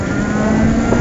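A light motorcycle accelerating on a city road, a loud close engine note holding a steady buzzing pitch with wind rush around it, heard from the rider's position.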